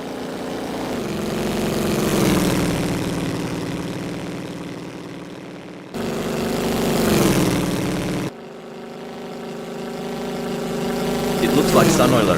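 Racing car in Assetto Corsa during an endurance race at Rouen-les-Essarts, with a loud sustained engine rumble rising and falling in pitch across several passes. A voice talks over part of it.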